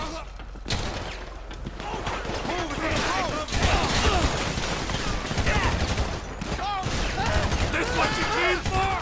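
Gunfire in Grand Theft Auto 5, played on Xbox One, comes as repeated loud shots and bursts within a busy, dense mix, with game voices and talk layered over much of it.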